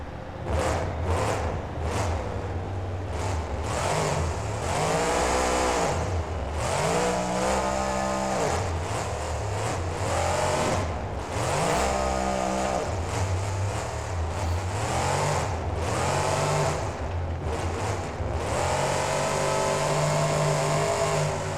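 Monster truck engine in BeamNG, the Bounty Hunter truck running a freestyle at Allegiant Stadium, revs hard in repeated rising and falling surges for over twenty seconds, loud and close with no talk.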